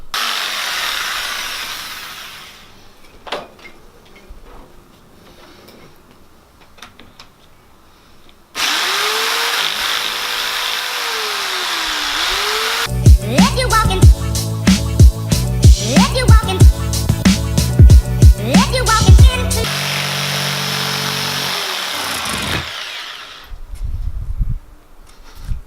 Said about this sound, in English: Trace that onto there, take the jigsaw to it, and then we'll cut it out